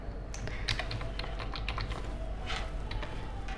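Code being typed on a computer keyboard, a steady stream of close, quick key clicks with a few louder taps over low background hum and no voices.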